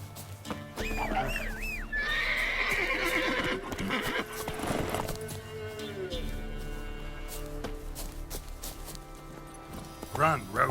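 In The Witcher 3, the horse Roach lets out a loud, close whinny, then gallops on with steady hoofbeats beneath game music and ambience while a voice speaks.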